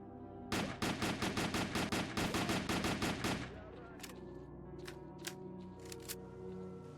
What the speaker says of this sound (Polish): Kole, znowu ktoś strzela, tym razem ze snajperki